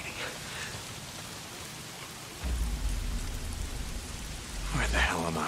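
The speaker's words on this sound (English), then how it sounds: "If it's not the freaks, it's the goddamn rain." Steady rain pours down in a video game, with a deep rumble of thunder rolling in partway through and building toward the end.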